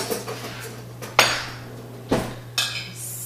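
A metal spoon scrapes and knocks against a bowl while scooping cooked lentils for a lentil lime salad, three sharp clanks spaced over a few seconds above a low steady hum, close and clear with no talking.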